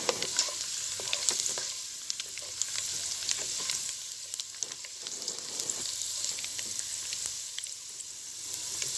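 Garlic and garam masala fry in a hot pan with a continuous, even sizzle and occasional soft stirring, close and steady with no talking.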